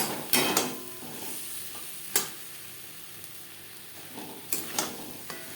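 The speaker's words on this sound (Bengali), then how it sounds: "মশলার সাথে আলু বেশ ভালো করে মিক্সড করে দেবো" Boiled potatoes coated with turmeric being stirred into spices in a pan, with a soft sizzle under several sharp scrapes and knocks of the spoon at irregular intervals.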